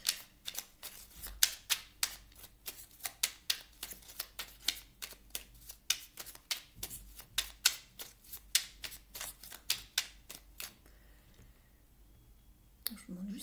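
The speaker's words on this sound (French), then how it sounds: "je vais quand même tirer une carte de cet oracle, s'aimer et s'accepter pleinement." A deck of oracle cards being shuffled by hand, a steady run of quick, crisp slapping riffles repeating for several seconds up close before a brief pause.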